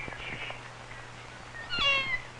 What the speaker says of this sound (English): a kitten.